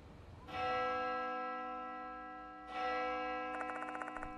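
A clock tower bell in the horror game Death Mark II tolls twice, each strike ringing with a long, slowly fading resonance, followed by faint rapid ticking.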